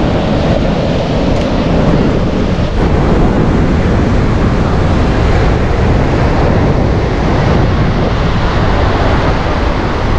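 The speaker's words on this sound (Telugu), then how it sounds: "అలలు కూడా చాలా దగ్గర" Rough sea waves break close by on Mypadu beach as a loud, continuous roaring wash, with wind buffeting the microphone and no talk.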